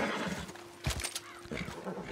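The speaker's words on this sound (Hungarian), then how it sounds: "Most ide jött a lovam." A horse neighs in Red Dead Redemption 2, one short whinny near the middle rising over a steady low game ambience with faint hoof and camp noises.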